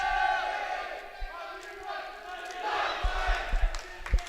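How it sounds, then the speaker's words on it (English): A crowd at a varsity boys volleyball match between East Longmeadow and Holyoke yells and cheers in a gym, rising into a loud roar with sharp thumps and shouts toward the end. "The teams are pumped up tonight, cheering very loud."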